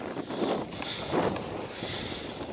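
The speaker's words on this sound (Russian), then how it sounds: "Ветрище, конечно." Strong wind gusts buffet the microphone outdoors during a metal-detecting outing, producing a steady roaring rumble with low thumping swells and no voices.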